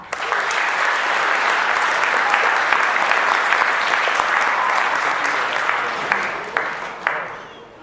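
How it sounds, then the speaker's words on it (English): Sustained applause from an audience at a school band concert fills the hall, a dense steady wash of clapping that thins out toward the end with a few scattered louder claps. "Please give them a huge round of applause."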